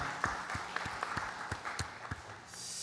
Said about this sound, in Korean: 우리 박수로 축하합니다